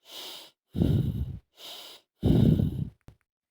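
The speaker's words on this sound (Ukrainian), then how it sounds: "Наберімо в рот повітря, щічки, як у хам'ячка, дихаєм носиком." A child's breathing exercise: the cheeks are puffed full of air while breathing runs through the nose, giving four close, rhythmic breaths that alternate between softer and louder huffs with brief pauses between them. No talking.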